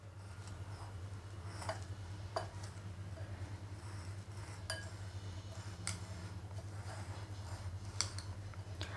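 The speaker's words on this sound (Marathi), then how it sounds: "आणि आता हे सगळं आपण छान असं मिक्स करून घेऊयात" A spoon mixes a vegetable sandwich filling seasoned with salt and black pepper in a bowl, giving sparse clinks and scrapes against the dish over a low steady hum, with no voices.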